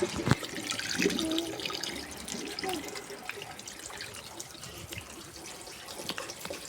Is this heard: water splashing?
yes